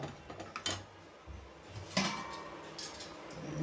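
A spoon stirs milk into a white sauce pasta base in a pan, giving a few faint, scattered clinks and scrapes against the metal in a quiet kitchen.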